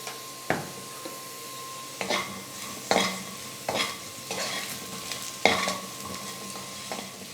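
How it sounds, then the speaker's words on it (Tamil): Potatoes frying in a pan with chili powder, turmeric and salt are stirred in several distinct scraping strokes, each followed by a soft, steady sizzle, with no talking. "எல்லாத்தையும் சேர்த்து நல்லா கலந்து கொடுத்துட்டு உருளைக்கிழங்கு நல்லா வேகிற வரைக்கும் குக் பண்ணிக்கலாம்"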